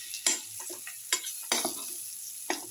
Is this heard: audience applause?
no